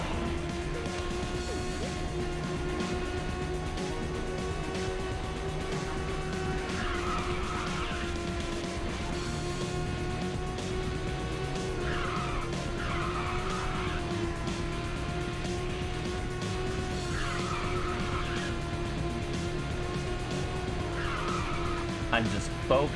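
A race car in Ridge Racer 6 skids and crashes. A steady game engine drone runs throughout, broken by several short squealing skid bursts.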